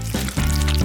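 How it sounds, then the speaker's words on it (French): White chocolate melting in a saucepan while being stirred, giving a loud, close, continuous sizzling and scraping wash with a few short bumps of the spoon. "J'ai besoin du chocolat blanc que je vais le faire fondre dans une casserole."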